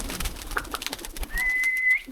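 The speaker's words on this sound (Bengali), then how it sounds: "এই যে হাই ফ্লাইয়ার কবুতর।" Pigeons at a small backyard pigeon farm with high flyer, giribaz, local and racer breeds, heard as soft calls amid faint rustling, followed by a thin sustained whistle-like tone near the end.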